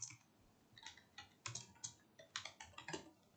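Quiet typing on a computer keyboard, a short run of light, close key clicks at an uneven pace.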